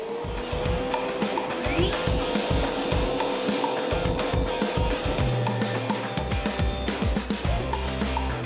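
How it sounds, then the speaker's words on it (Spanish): Table saw cutting a groove into MDF board, a steady loud motor whine under dense rasping bursts of blade biting the board, continuing without pause for several seconds. "Hice 3 pasadas por la sierra de banco para llegar al espesor requerido del MDF"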